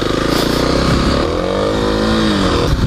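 Kawasaki KLX300 dirt bike engine running close while riding uphill on muddy suburban ground, a steady droning roar with pitch sweeping up and down as the throttle shifts.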